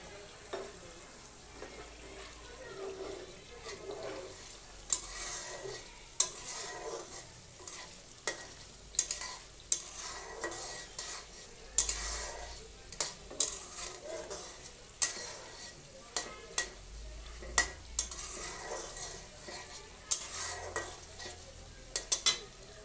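Fish curry with tomato cooks in a pan over a low gas flame, giving a steady close sizzle broken by irregular sharp scrapes and clinks of a stirring utensil.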